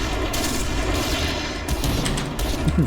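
Gunfire from a Point Blank first-person shooter match on a Thai server, a dense, loud stream of rapid shots with booming low end that keeps up for about three seconds without pause, and no talk over it.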